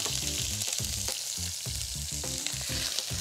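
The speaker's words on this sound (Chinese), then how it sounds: "因为洋葱下去的时候啊，让它稍微炒一下，有一定的香度。" Onions stir-frying in oil in a pan while shrimp are cooked for a coconut curry, a steady loud sizzle with rhythmic scraping and stirring strokes close to the microphone.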